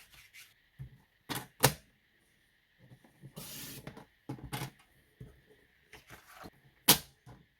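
A paper piece trimmed to size on a craft paper trimmer for a card, heard as a few brief, separate slicing swishes and clicks with quiet gaps between them, close up.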